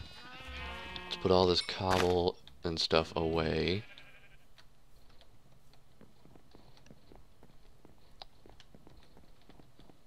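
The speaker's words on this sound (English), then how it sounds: "Oh, it's one cow and one sheep." Minecraft sheep bleat in a rapid burst of several loud, nasal cries from a survival farm, then fall away to a quiet backdrop of faint clicks and clatter while someone talks.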